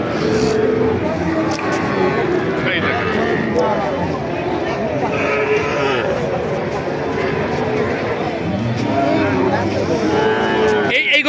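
Several cows low at a busy village cattle market in Naogaon, their moos rising now and then above steady close conversation and crowd chatter.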